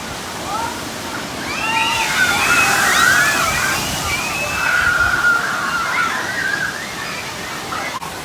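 A giant tipping water bucket at Aquatica San Diego water park dumps its load, a broad roaring slosh and splash that swells and lingers, with whistles and crowd chatter from the park around it.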